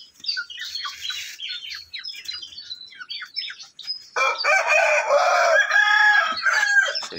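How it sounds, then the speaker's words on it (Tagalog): Native chickens cluck in short scattered bursts, then a rooster crows loudly and long nearby, with more clucking around it. "Native na manok."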